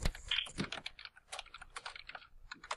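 Rapid clacking keystrokes on an old dome keyboard, a steady irregular patter of close, moderately quiet typing with no voices.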